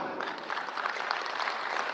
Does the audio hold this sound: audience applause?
yes